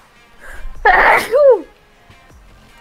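One loud, close sneeze, a quick sharp burst that ends in a falling voiced tail, heard against near silence.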